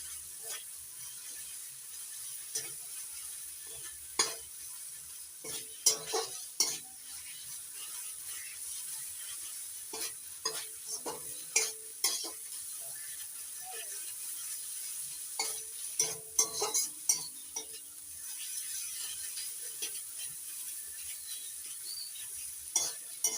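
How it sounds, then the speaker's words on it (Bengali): Taro curry with turmeric being stirred and sautéed in a pan, giving repeated scraping and clinking spoon strokes with a soft sizzle underneath, steady and close throughout. "এবার নাড়াচাড়া করে মিশিয়ে একটু কষিয়ে নিচ্ছি।"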